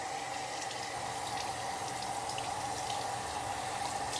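Hot tap water runs steadily into a sink over a rag, a constant close hiss and splash with no pauses and no voices.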